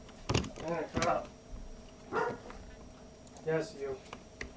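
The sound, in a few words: dogs barking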